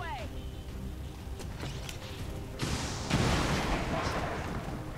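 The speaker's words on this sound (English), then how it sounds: "Rocket launcher." A rocket launcher blast in the video game XCOM 2, a loud rumbling explosion erupting midway and fading out, over game background sound.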